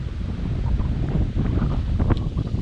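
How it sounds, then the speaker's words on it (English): Strong wind gusts of up to 30 mph buffet the microphone beside a sheltered pond in a nature preserve, a loud continuous low rumble that swells and dips without speech. "it was going to be 10, 15, up to 30 mile per hour gusts"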